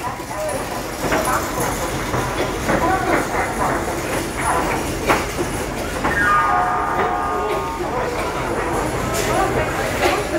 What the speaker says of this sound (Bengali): এই দিক দিয়ে যাচ্ছে দেখুন বন্দে ভারত এক্সপ্রেস